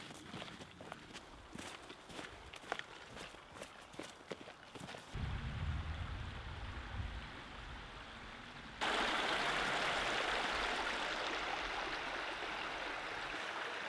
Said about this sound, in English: here's my stream crossing right here